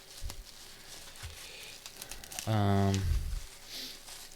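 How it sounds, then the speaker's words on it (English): Close crinkling and tearing of tape and bubble wrap as packaging is pulled off tabletop wargame terrain pieces, soft handling then one loud rip lasting about half a second. "these are fairly easy to pull apart. It's just tape and bubble wrap."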